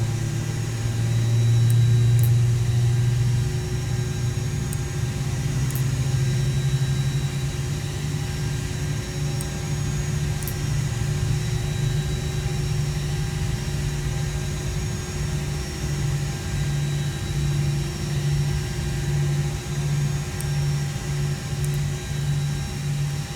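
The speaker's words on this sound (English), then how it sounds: "Good start on number 2, engine 1." Engine number two of an aircraft spooling up during start, a steady loud mechanical drone with a low rumble and rising whine running continuously with no talk over it.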